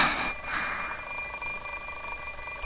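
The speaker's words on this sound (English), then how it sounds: "Something is ringing." An alarm clock rings in the Fate/Stay Night visual novel, a steady high-pitched electronic tone that starts loud and keeps going with a faint buzzing ring.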